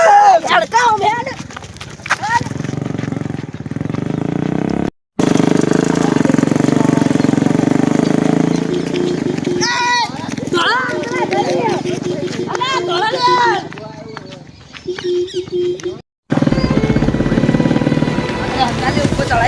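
A motorcycle climbs uphill with its engine droning steadily through heavy wind buffeting, two brief dropouts breaking the sound, while people talk loudly over it.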